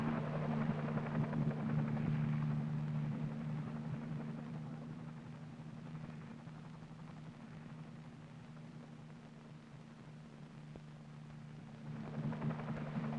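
Army helicopters at a landing zone make a low, continuous rotor drone, faint and steady throughout, with a slight swell near the start and again at the end, and no talk.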